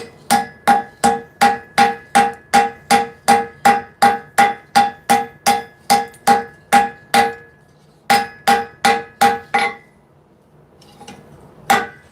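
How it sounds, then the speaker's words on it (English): A blacksmith's hammer strikes hot metal in a forge while work begins on a set of tekko kagi claws: a steady run of about twenty ringing, evenly spaced blows, then a short pause, a few more strikes and one last hit. "Really want to use that hammer."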